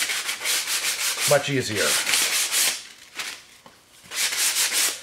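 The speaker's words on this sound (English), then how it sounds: "So just a quick sand on the edges." The cut edges of a DIY access panel cover are sanded by hand, giving steady back-and-forth rasping strokes that repeat in a close rhythm and pause briefly while someone speaks.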